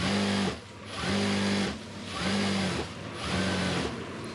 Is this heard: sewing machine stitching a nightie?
yes